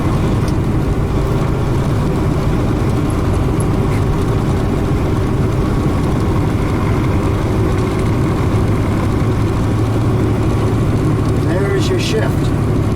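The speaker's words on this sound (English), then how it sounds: "I'm going to do a split downshift" Heavy truck diesel engine with a 13-speed transmission, steady low rumble continuing through a split downshift made without the clutch, with a brief change in engine note near the end.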